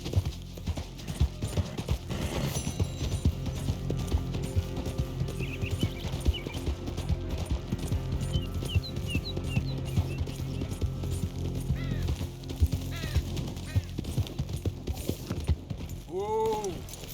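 A horse gallops in Red Dead Redemption 2, its hooves clip-clopping in a steady rhythm for the whole stretch. Occasional snorts and a neigh come through, along with creaking tack and gear-like game ambience.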